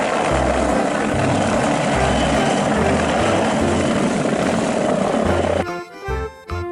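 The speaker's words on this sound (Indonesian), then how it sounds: "Wow, helikopter polisi." A toy police helicopter gives off a loud, steady whirring rotor sound with a pulsing low thump, then cuts off near the end into a few brief clicks.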